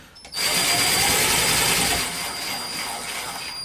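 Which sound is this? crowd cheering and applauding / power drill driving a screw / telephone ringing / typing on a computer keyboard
power drill driving a screw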